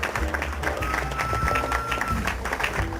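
Guests at an architecture design awards gala applaud in a dense round of clapping, with voices and crowd murmur mixed underneath and a faint tone running through it.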